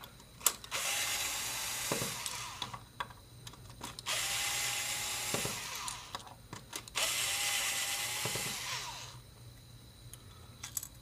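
Small power screwdriver backing out four screws from a positioner's pressure sensor board, in three whirring bursts of a few seconds each, close and fairly quiet, with small clicks and handling noises between runs.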